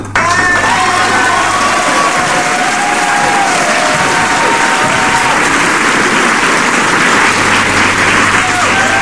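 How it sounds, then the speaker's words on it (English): Loud, dense applause and cheering from a crowd for a radio quiz winner, sustained without a break across the whole stretch, with whoops and shouting voices mixed into the clapping. "I'm going to give you a round of applause for that"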